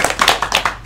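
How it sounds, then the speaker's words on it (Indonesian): A brief burst of applause from a classroom of students, with quick, uneven hand claps over less than a second, close and fairly loud. "Tepuk tangan untuk kita semua."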